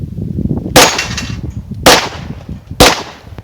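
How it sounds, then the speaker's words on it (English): Three loud, sharp gunshots from a .357 Sig Glock pistol crack close by at a shooting range, spaced about a second apart with brief echoing tails and no talk. "All right, let's put some shots on target."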